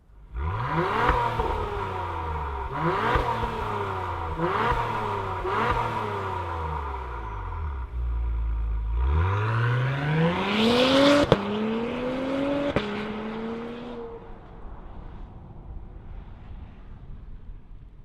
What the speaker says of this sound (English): let's fire this up and see it zoom off